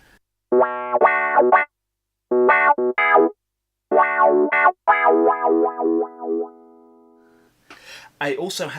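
A synthesizer with a wah pedal effect plays short phrases of vocal-like, sweeping wah tones in bursts separated by pauses, ending with a long held note and some noise.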